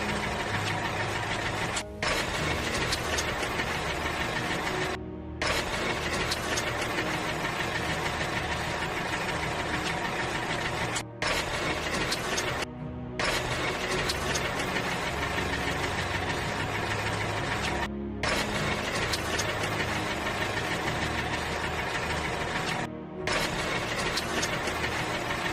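A cartoon tractor engine runs loud and steady, a continuous chugging drone that briefly cuts out several times before resuming.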